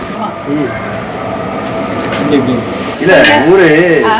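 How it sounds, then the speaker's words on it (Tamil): Tomatoes and chillies frying in a pan for a ceremonial feast, stirred with a low sizzle and scraping beneath continuous close talking. "தக்காளி மிளகாய் சேர்த்தாச்சு நான் கிண்டுதேன்"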